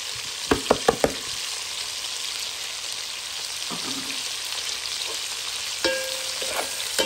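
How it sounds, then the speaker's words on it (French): Onions frying with smoked sausage in a pan: a steady, loud hiss of sizzling fat, with a few sharp utensil taps early on and another clatter near the end. "Maintenant, je mets les oignons."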